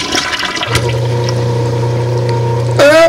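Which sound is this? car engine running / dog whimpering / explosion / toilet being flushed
toilet being flushed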